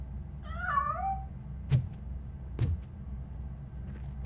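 A cat meows once in a short, wavering cry inside the Robocop Rogue City game, followed by a few sharp clicks and thuds over a low ambient hum.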